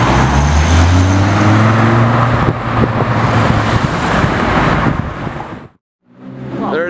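A Dodge Viper drives past on a street, its loud engine roar near and sustained with a falling pitch for several seconds amid traffic, then cutting off abruptly before another vehicle's noise picks up.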